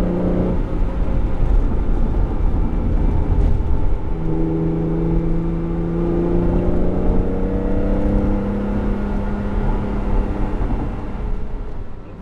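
The twelve-cylinder engine of a 1994 Ferrari 512TR Testarossa revs and drops through a downshift into third gear, its deep droning tones sliding in pitch, heard from inside the car with no talking.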